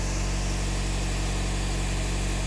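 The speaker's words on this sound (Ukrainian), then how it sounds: "Автомобіль сам газує," A Volkswagen Passat 2.0 TDI diesel engine revving by itself during an automatic adaptation procedure, a steady loud continuous engine drone with no breaks, no voices over it.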